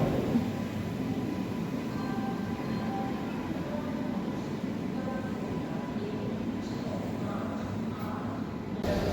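The Rani Chennamma Express pulls in at platform 1 at Hubballi station, a steady, moderately loud rumble of rolling wagons that holds evenly throughout.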